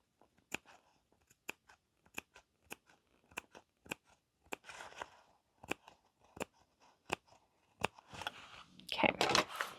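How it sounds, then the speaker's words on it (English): Sewing scissors making small snips in fabric while cutting a crossbody bag pattern: a steady series of crisp, close snips at an irregular pace, with soft fabric rustling growing louder near the end. "making these little snips like this, because I don't have to open the scissors as much"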